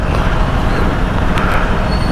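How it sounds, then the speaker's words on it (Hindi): Road traffic noise, a loud, dense, continuous roar of engines and tires close by, with no breaks and a brief brighter hiss partway through. "ट्रैफिक हमारा ख़त्म नहीं हो पा रहा।"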